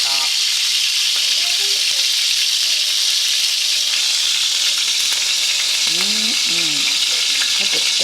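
Thick, fatty pork chops sizzle loudly and steadily in a frying pan, a dense continuous hiss close by, with a faint voice briefly murmuring near the end.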